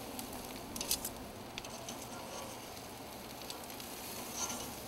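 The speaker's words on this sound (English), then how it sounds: "See how these asparagus, I can grab them real easy, flip them right over." Asparagus sizzles softly in a hot pan as it is turned over, a faint continuous frying hiss with a few light taps and clicks.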